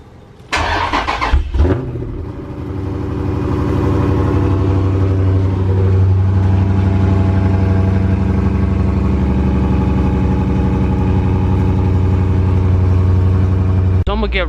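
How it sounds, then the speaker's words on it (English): A Dodge Challenger or Charger Scat Pack or Hellcat V8 cold-starts close by with a sharp crank and loud bark, then settles into a deep, rumbling high idle that runs steadily to the end. "First thing first, get that cold start."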